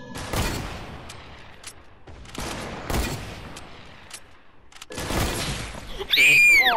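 Gunfire in the video game Fortnite comes in three loud, sharp bursts of rapid shots spaced a couple of seconds apart, with a whistling effect at the end.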